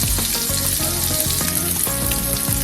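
Blackened salmon fillets fry in a pan, giving a loud, close, dense sizzle that runs throughout with repeated low thumps and spatters. No one speaks.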